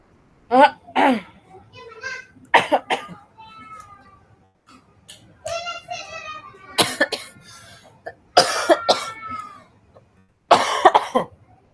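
Repeated harsh coughing fits, loud and close, in bursts with pauses, mixed with some throat clearing and brief speech in between.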